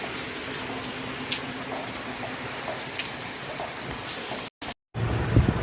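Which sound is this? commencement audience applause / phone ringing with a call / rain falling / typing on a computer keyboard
rain falling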